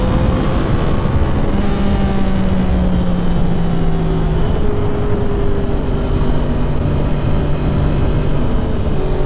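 A 2010 Yamaha R1 motorcycle being ridden, its engine droning loud and close under steady wind rush, with pitch sliding down as revs fall across the shifts.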